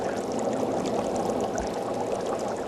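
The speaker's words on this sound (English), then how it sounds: "Carbon dioxide at levels dangerous to humans is pumped through the lime water" Carbon dioxide pumped through lime water bubbles and churns in a dense, steady gurgle, loud and close, with no break and no voices.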